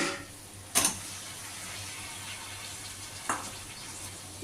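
Fish dropped into hot oil with spiced masala gives a steady, faint sizzling hiss, broken by a few sharp clatters of the pan or utensils.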